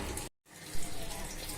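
A glass of water is tipped into a pan while making palak dal (spinach lentils), a brief splash followed by a steady rushing pour close to the microphone.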